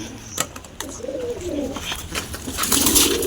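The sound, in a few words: pigeons cooing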